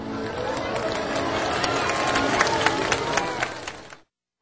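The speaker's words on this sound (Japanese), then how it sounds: "真夏の夜を焦がす大輪の花に思わず歓声が湧きました。" Large outdoor crowd cheering and shouting at a midsummer night fireworks show, a steady dense roar of many voices with scattered whoops and claps that swells slightly before cutting off abruptly.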